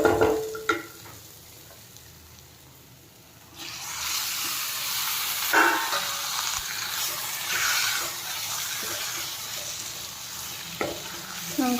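Chicken meat added to a pan of fried tomatoes for a chicken curry, with a loud sizzle rising suddenly and steady frying hiss continuing as the mix is stirred, broken by occasional scraping clinks.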